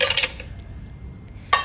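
Five or six ice cubes dropped into a kitchen mixer jar for a chikoo and dates drink, two quick hard clinking bursts, one at the start and another near the end, with a quiet gap between.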